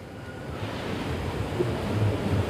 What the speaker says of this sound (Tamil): நல்ல காற்று வருது